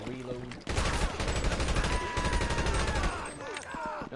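Rapid gunfire with exploding rounds in GTA, a sustained burst of heavy shots and blasts that runs for several seconds before tapering, with a voice briefly heard.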